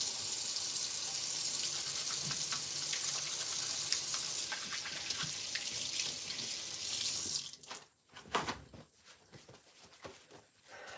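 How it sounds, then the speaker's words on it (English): A tap runs steadily into a kitchen sink as hands are washed. A bright, hissing water stream lasts about seven seconds, then breaks into a few splashes and drips. "wash my hands"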